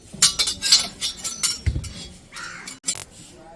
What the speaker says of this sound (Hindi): अब हम चढ़ा देंगे कढ़ाई को।